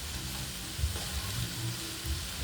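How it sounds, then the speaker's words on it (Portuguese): Shredded cabbage sautés in a pan with a continuous close sizzle and soft occasional stirring knocks, and no voices over it. "E até ele refogar todo, até ele murchar"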